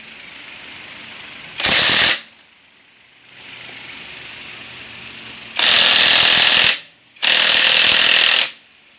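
A power tool loosens a 19 mm nut on a Suzuki GD110 motorcycle in three loud, close rattling bursts: one short, then two longer runs separated by brief pauses.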